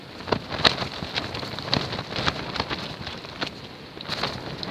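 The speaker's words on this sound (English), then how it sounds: "And it's howling outside. And it's raining." Steady rain pattering on a surface at a beach campsite in howling wind, with scattered louder drips and a constant wash of noise throughout.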